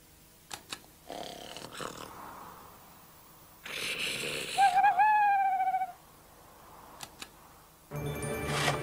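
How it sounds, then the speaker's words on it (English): An owl gives a single clear hooting call in the middle of a quiet night scene, preceded and followed by brief rustling and clattering noises. "It's only an owl, Dig, said Doug."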